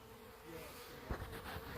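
Wintering honeybees inside a six-frame hive give off a soft, steady, close buzzing hum, with a faint knock or rustle partway through and no voices.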